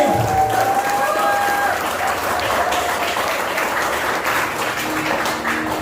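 A seminar crowd in Sukabumi breaks into loud, dense applause that holds steady throughout, with a faint whistle-like tone and some voices mixed into the clapping.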